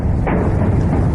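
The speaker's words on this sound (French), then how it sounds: "D'importantes explosions ont à nouveau retenti ce mardi dans la ville syrienne de Kobané, filmée ici depuis la Turquie" A heavy explosion booms over the Syrian town of Kobané, heard from a distance across the Turkish border as a loud, deep rumble that rolls on throughout with one sharper burst near the start.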